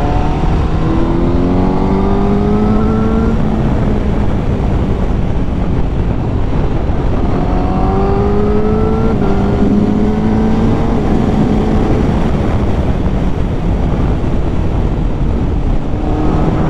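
A 2020 Honda CBR1000RR-R SP Fireblade sport motorcycle engine revs up through rising pitches several times, repeatedly accelerating under a constant roar of wind buffeting the microphone.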